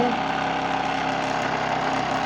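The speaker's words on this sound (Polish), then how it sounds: "Dość ładnie pracuje. Trochę jeszcze łożyska huczą" A BLHF-RM synchronous motor runs steadily on a home test rig, its long shafts turning with a constant close hum and a slight rumbling drone from the bearings.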